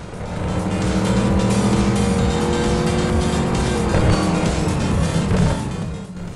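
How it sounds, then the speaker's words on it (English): Loud, continuous roar of racing car engines in a Real Racing video game, revving and whining, with tire squeal and cars rushing past, filling the whole stretch without any talking. "A highlight are the various engine sounds for the different cars, which all are very crisp and fit well."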